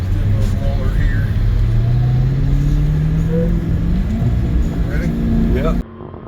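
An 840HP Dodge Charger Hellcat Redeye doing a rolling burnout: a loud, close engine roar that climbs steadily in pitch with tire noise, then cuts off abruptly, with voices talking over it.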